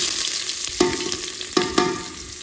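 Onions frying in hot oil in a pot, for a village-style country chicken sambar: a constant close sizzle broken by three sharp stirring scrapes.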